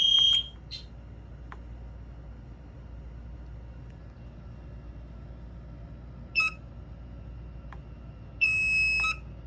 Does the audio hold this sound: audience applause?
no